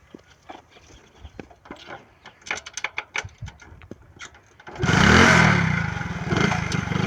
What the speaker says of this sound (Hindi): आज मोटरसाइकिल लेके भाग जाता हूँ